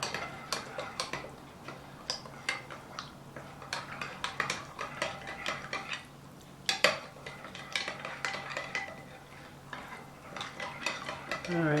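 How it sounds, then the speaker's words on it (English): A spoon stirs in a pot while making homemade beef sandwiches, clinking and tapping against the sides in a steady, close rhythm of light metallic knocks. "we're going to stir it up"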